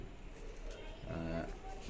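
Low, soft coos from a Teddy pigeon repeat near the middle of the clip over steady background noise, with faint voices murmuring.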